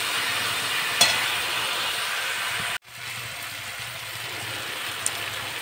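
Rohu fish curry with fried spices and hot water simmering in a pan, a soft continuous sizzle and bubble with a brief clatter near the start and a short break midway before the quiet bubbling resumes.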